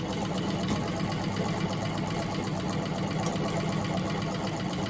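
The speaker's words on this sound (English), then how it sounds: "here I am, sewing with my own sewing machine." An old Gritzner sewing machine runs steadily and continuously, a dense mechanical whirr with rapid stitching rhythm, close by and without pause.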